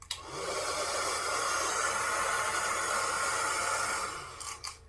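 A hair dryer runs at a steady, loud whoosh for several seconds before cutting off with a few brief clicks at the end.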